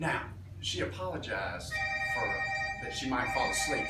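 A telephone rings with a steady electronic warbling tone for about a second, partly beneath a person talking in a room.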